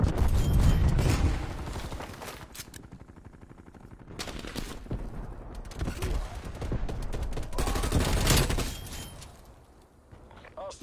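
Gunfire in a Call of Duty online match, with dense bursts of automatic fire and explosions that rise and fall across the clip, loud and close, with a brief lull near the end.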